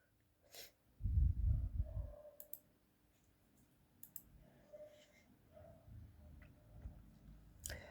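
A few isolated computer mouse clicks, sharp and close but quiet, spaced apart over low breathy background noise with no talking.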